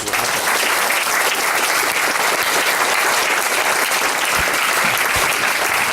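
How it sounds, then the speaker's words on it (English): A large audience applauds loudly and steadily at a formal event honouring the organising services, a dense, even wash of clapping that holds for the whole stretch with no speech over it. "je voudrais qu'on applaudisse très fort tous ces services"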